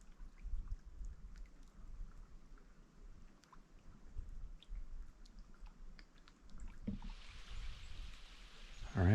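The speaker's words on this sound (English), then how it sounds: "there's a little bit of a summer shower going on right now" A light summer rain shower falls on a campsite in Algonquin Park, soft steady patter on surfaces with faint drips throughout and a louder splashing burst near the end.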